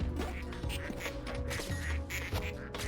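Ducks quacking in the video game Project PITT, repeated nasal calls scattered over a dense bed of game machinery and clatter, moderately loud and continuous.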